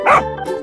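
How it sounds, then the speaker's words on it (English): A single dog gives one short, loud bark followed by a softer second yip, close and clear. "Dog."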